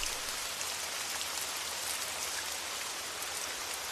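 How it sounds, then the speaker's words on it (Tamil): Steady rain falls outside near a hospital, a constant, even hiss of drops on surfaces with no breaks, filling the whole span at a moderate distance. "மழை வருதுல்ல, அதனால தான் நான் வந்தேன்"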